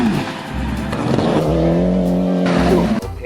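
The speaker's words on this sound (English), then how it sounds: "Rally car" Rally car engine revving with tire noise, loud and close, a continuous roar that rises and falls without any talk.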